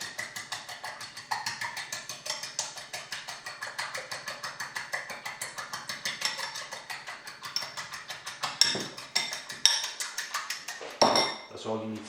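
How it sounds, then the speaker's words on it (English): A fork whisks something in a dish, making a fast, steady run of close metallic clinks and taps against the dish that continues for several seconds. "and just whisk this with a fork"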